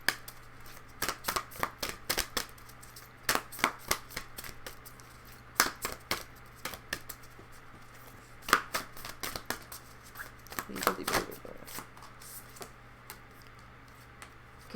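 A shamanic medicine card deck being handled and shuffled, with sharp card snaps and flicks in irregular clusters over a quiet steady hum. The sound is close and moderately loud, and no one speaks.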